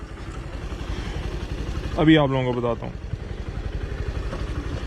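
A Suzuki GSX125 motorcycle engine, still within its running-in period, idles close by with a steady low rapid chug, while someone talks over it.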